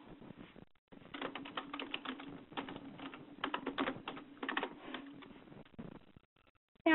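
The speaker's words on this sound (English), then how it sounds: "You'll have to bear with me on my typing and my talking." Fast, uneven typing on a computer keyboard, with dense clusters of clicky keystrokes and brief pauses, close and moderately loud, with no voices.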